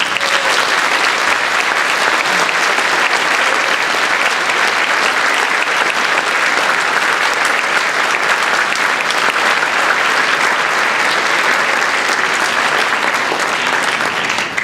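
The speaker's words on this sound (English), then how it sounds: "I'd like to hear a round of applause for every student in the room." Loud, dense applause fills a room at a school wind ensemble spring concert, a continuous roar of clapping from a large audience that holds steady throughout without talk.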